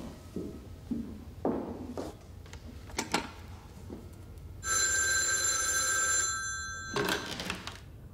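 A telephone bell rings indoors at home, a loud sustained electric ring of under two seconds, followed by a second short burst. Scattered knocks and handling clatter come before it, and no one speaks.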